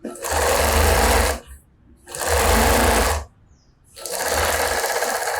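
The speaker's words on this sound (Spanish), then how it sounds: "Y pasamos esa costura." A sewing machine stitches a seam on a handmade bag in three loud, close, sustained runs of fast whirring, separated by brief pauses.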